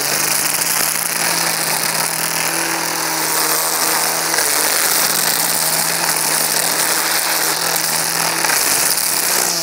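Auto string release weed trimmer running steadily near a retaining wall, a loud continuous buzzing engine whine throughout with no distinct break where the line feeds out.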